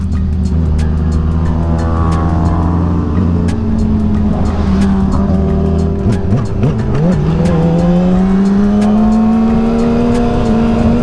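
A 600cc supersport motorcycle on track under hard front braking, engine pitch falling sharply as it slows, with a loud continuous drone and a wavering tire-scrub sound beneath, no talk.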